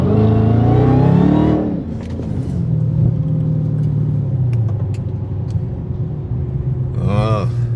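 A Dodge Hellcat Charger engine revving loud and close with the pedal held to the floor, a strong sustained roar that rises then settles into a steady high-rpm drone, with brief voice sounds near the end.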